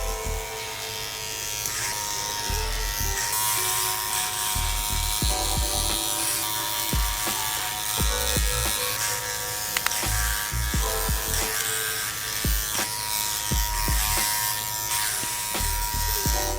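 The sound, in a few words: electric hair clippers trimming a beard with number 3 guard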